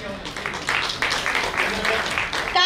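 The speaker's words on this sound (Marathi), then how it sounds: "टाळ्या वाजवताना आपण थोडंसं कंजूषपणा नेहमीच दाखवत असतो" Applause from an audience at an anniversary celebration event, a steady wash of many hands clapping at moderate loudness that swells slightly toward the end, with faint talk beneath.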